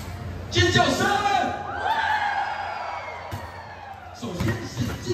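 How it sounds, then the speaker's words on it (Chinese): A crowd screams, whoops and cheers at a street parade in Hengchun with a marine corps band and honor guard. The bursts of loud shouting rise and fall, with close voices breaking out at the start and again near the end. "尖叫声！"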